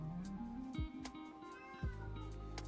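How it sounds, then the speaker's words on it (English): A house cat meows repeatedly in drawn-out, wavering calls, close and fairly loud, with a few short breathy noises between them and no talking. "Stop robbing me, cat."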